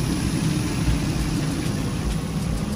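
A 2005 Nissan Frontier 4.0L engine idles after a timing chain replacement, a steady, fairly loud low hum that holds even throughout, close by with no voices.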